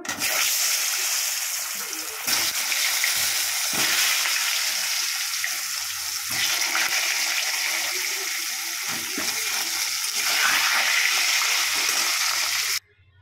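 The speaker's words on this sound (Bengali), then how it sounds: "আলুটা ভেজে নেব" Continuous loud sizzling and crackling of potatoes frying in hot oil, with occasional stirring scrapes and brief breaks in the hiss.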